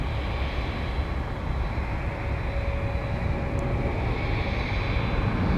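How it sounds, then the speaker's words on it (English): A jet airliner takes off from runway 17 at Minneapolis–Saint Paul airport, heard as a constant, heavy roar with deep rumble that stays loud and unbroken throughout. "runway 17, clear for takeoff"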